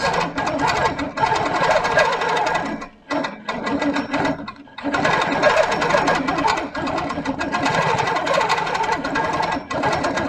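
A sewing machine stitches a quilt with a loud, close, steady mechanical whirr and rapid needle chatter, briefly dipping twice as the stitching pauses before running on.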